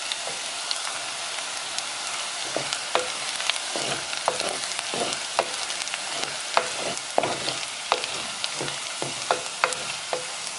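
Sliced onions with turmeric powder frying in a pan for Kerala mutton curry give a steady, soft sizzle, broken by frequent scraping clicks of a spoon stirring, with no talking.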